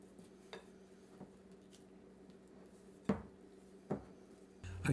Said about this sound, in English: I like to stir until the dough wants to stick to the bowl